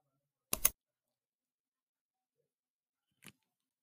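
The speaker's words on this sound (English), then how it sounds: "press enter on the keyboard." A computer keyboard's Enter key is pressed during a Windows PowerShell session: one sharp close click, then a fainter second tap a few seconds later, otherwise silence.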